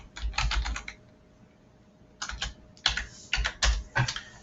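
Fingers type on a computer keyboard in two quick bursts of rapid, close key clatter separated by a short pause, with no talking.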